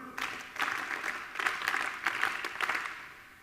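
An audience claps back a short rhythm together, in irregular clusters of sharp hand claps at moderate loudness with a roomy, crowded texture and no talking.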